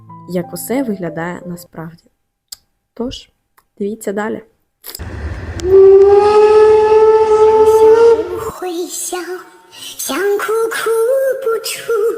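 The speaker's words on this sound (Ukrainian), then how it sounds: "Зараз ми вирушаємо на старовинному потязі до зупинки Драяни." An old heritage train's whistle gives a long, loud, steady blast, then the train keeps running with a continuous rumbling tone. Someone talks in short phrases before and after.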